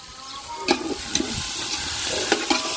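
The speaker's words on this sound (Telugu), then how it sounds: "తాలింపు అయితే బాగా వేగింది కదా ఇప్పుడు దాంట్లో ఎసురు పోసుకుందాం" Tempering spices fry in a pan for a biryani, a close, steady sizzle broken by a few sharp clicks of stirring, with no talk over it.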